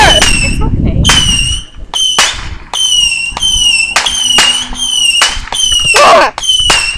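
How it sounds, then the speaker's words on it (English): Daytime Fourth of July fireworks crack and burst loudly in a rapid run of sharp, close explosions, some with whistling trails, while people talk and shout between the bangs. "These fireworks are evil!"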